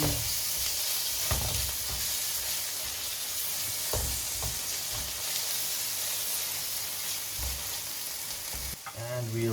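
Ginger garlic paste sizzles and fries steadily in a hot pan while being stirred for a lamb curry with potato, a continuous loud crackle broken by a few scraping stirs.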